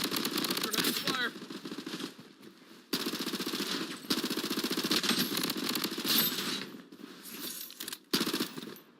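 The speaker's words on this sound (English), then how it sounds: "Under heavy fire." Heavy video-game gunfire: dense, loud bursts of rapid automatic shots that start and stop several times with brief gaps, plus scattered clinks.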